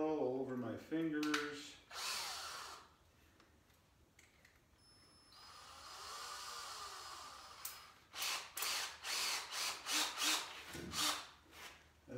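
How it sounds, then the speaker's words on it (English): A power drill fitted with an old countersink bit bores into wood for a hutch build, giving a few short bursts early on, then a run of rapid grinding pulses toward the end, with quieter gaps between. "these other countersink bits are old, so they don't have the quick release"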